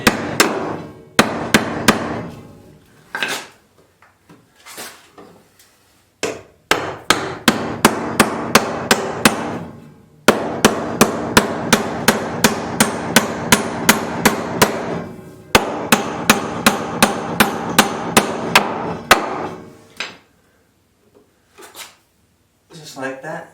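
Rapid, sharp hammer blows ring out as an electrical outlet box is hammered into a wall stud, in several quick runs separated by brief pauses, close and loud.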